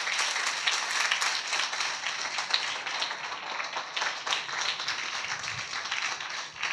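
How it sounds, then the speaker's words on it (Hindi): A church congregation claps loudly and continuously at a Hindi-language worship service, a dense, steady wash of applause with no speech. "जोर से ताली बजा के प्रभु का धन्यवाद करें"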